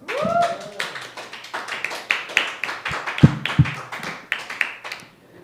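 Applause from a story night open mic crowd for a storyteller, sharp close claps scattered irregularly over a few seconds and thinning out toward the end, with a few louder taps.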